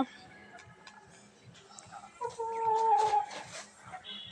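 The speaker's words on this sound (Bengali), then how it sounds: "দেখো দেখো আমার মুরগিগুলো" Soft clucking of chickens nearby, with a few louder calls in the middle and light ticking background noise.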